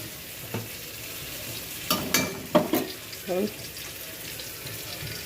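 Spices fry in mustard oil in a pan, giving a low steady sizzle under a few sharper clatters and scrapes of stirring; a voice is briefly heard.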